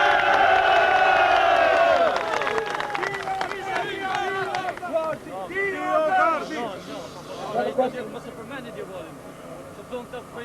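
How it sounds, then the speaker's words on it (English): A street rally crowd in front of the UN cheering and shouting together, loud overlapping voices and whoops rising and falling close by, with speech mixed into the din. "You see, you hear the crowd behind you."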